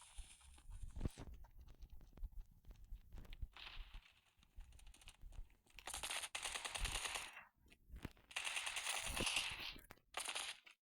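Video game battle gunfire crackles in rapid automatic bursts and single sharp shots, some stretches dense and sustained, others clipped and sparse, with no talking.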